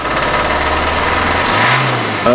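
A 1.3 JTDM diesel engine in an Alfa Romeo MiTo, run at full throttle on petrol and judged dead, revving loudly and steadily up close, then dipping before a sharp rise near the end.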